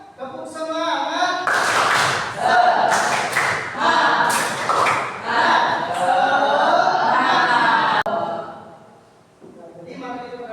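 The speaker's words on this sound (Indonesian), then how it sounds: "mari kita tepuk semangat" A group claps out the rhythmic 'tepuk semangat' chant in quick patterned bursts, with voices chanting along between the claps and a brief pause near the end.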